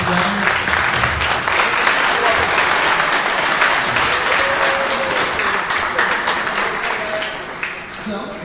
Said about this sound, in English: Can we get a big round of applause for them putting it together?